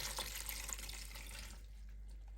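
Leftover chicken stock pours from an Instant Pot with a soft, steady splashing of liquid that fades after about a second and a half, leaving a low hum.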